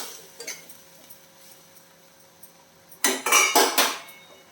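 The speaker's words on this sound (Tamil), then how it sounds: "இப்போ வந்து மீடியம் ஃப்ளேமில் இதை மூடி வச்சிடலாம்" A lid is set on a pan of banana flower stir-fry after faint light taps, then a loud close cluster of metallic clatters and rattles for about a second.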